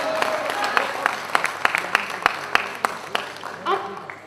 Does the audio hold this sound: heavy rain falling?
no